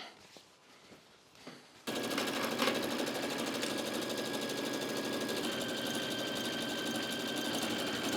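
A sewing machine overlocks a trouser leg, starting after a few quiet taps and then running in a fast, continuous mechanical rattle, close and steady to the end.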